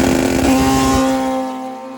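A Suzuki Hayabusa or Kawasaki CX-14 sport motorcycle engine roars close by at a race in a loud, steady, high-pitched drone that eases off slightly toward the end.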